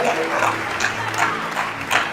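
A church congregation applauds and cheers in praise, a dense, steady wash of clapping with voices mixed in, loud and close throughout.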